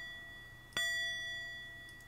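A single bell chime rings out in the puzzle video game Windosill, a sharp metallic strike followed by a clear, sustained ringing tone that slowly fades over a quiet background.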